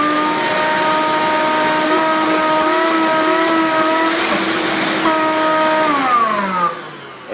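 A vintage Craftsman shop vacuum runs at a loud, steady whine with a strong motor hum, then winds down near the end as it shuts off.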